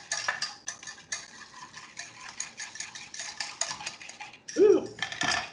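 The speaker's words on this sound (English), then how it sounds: "Go back to stirring" A utensil scrapes and clinks in a bowl while stirring donut batter, close and rhythmic with repeated strokes, briefly interrupted by a short vocal sound near the end.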